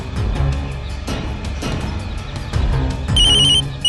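A telephone rings during an attempt to call someone, its bursts repeating in a steady pattern with a bright electronic tone near the end, loud and close, with no talk over it.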